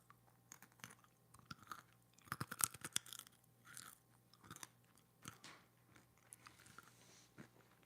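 Close, quiet crunching as someone chews crunchy food, with irregular bursts of crisp bites and softer mastication between pauses, no talking.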